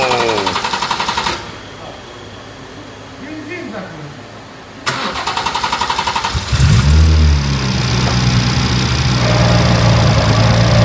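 A BMW E24 fitted with a swapped B58 engine runs in a shop with a rough, rattling transmission noise. The engine note drops to a lower hum partway through, then picks up again with a louder, throbbing drone. Talk is heard over it.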